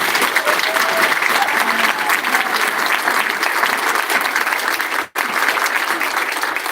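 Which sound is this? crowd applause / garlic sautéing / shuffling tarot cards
crowd applause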